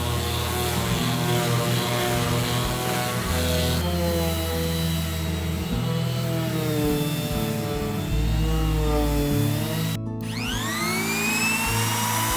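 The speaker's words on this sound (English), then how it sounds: "I fix the level difference on the joint and finish the surface with a sander again" A power sander runs continuously over a glued hardwood joint, levelling and smoothing the surface with a loud, steady whine that shifts pitch as pressure changes, then winds down near the end.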